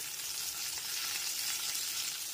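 Pointed gourd pieces frying in oil over a low to medium gas flame, a steady soft sizzle and hiss, fairly quiet and unbroken, with no one speaking.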